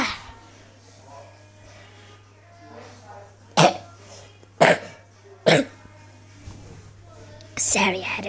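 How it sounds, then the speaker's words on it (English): Several short, harsh coughs break out one after another, with soft murmuring and breathy sounds between them and a steady low hum underneath. "Sorry, I had a bit of a cough."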